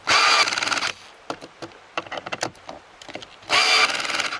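A cordless screwdriver with an adjustable torque clutch drives screws into a budget wall-hung kitchen cabinet, two loud sustained whirring bursts at start and end framing a stretch of scattered clicks and knocks, with no voices.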